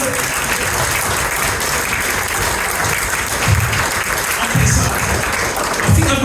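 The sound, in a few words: audience applause at corporate dinner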